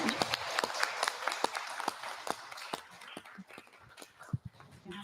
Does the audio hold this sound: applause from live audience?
yes